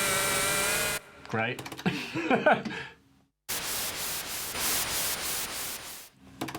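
Randomized patches on an ASM Hydrasynth synthesizer: a sustained harmonic tone cuts off, then warbling, gliding bursts follow, and finally a loud noisy, pulsing wash, with a brief spoken word partway through.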